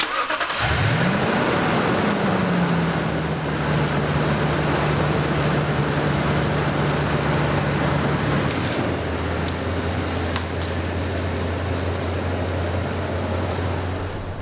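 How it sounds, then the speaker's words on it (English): A Toyota Tundra off-road build truck starts up and runs on a gentle test drive, a steady loud engine drone with a rising start and a shift in pitch partway through, accompanied by constant road and wind noise. "it was time to take the Grizz for a gentle test drive to get everything up to operating temps"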